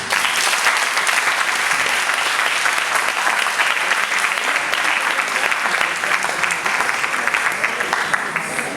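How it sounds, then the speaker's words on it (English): An audience at an Erasmus+ school culture event in Romania claps steadily, a dense, even wash of applause that continues unbroken for the whole stretch. "So please give them a big round of applause."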